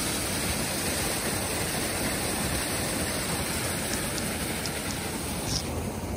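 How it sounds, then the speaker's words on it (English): Waterfall beside a frozen river in a white, snowy landscape at about -15°C, a dense, continuous rushing roar filling the scene without any voices. "But the waterfall."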